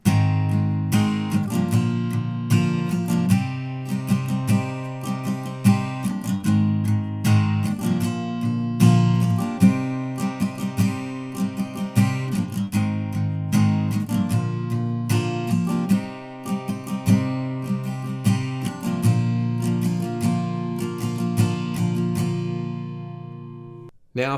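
Acoustic guitar strumming the pre-chorus chords of a song, a steady pattern of rhythmic strums changing chords every few bars, close and alone, ending with a final ringing chord that is cut off.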